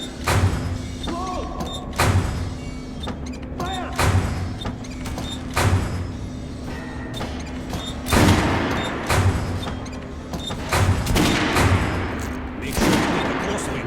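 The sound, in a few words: gunfire on shooting range in video game Metro Last Light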